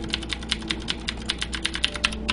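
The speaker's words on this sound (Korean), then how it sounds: "키보드 레오폴드 키보드가 좀 좋습니다." Rapid, steady typing on a Leopold computer keyboard during a StarCraft Brood War match, each keystroke a crisp, close click in a quick, even stream over faint background hum.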